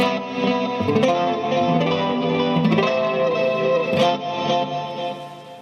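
Electric guitar chords through an overdriven Fender Super Sonic amp, warm breakup and some chorus shimmer, ringing out with a few strums over several seconds.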